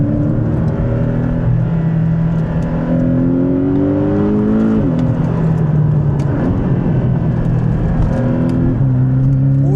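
A Porsche 718 Boxster GTS engine revs loudly and steadily up close, its pitch climbing and dropping through several rev sweeps with a continuous throaty drone.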